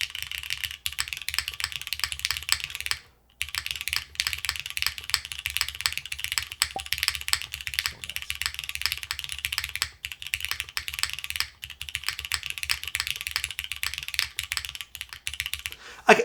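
Continuous typing on a mechanical keyboard fitted with partly PBT Sonnet keycaps, a dense steady patter of clacky keystrokes with one brief pause, close and alone with no talk.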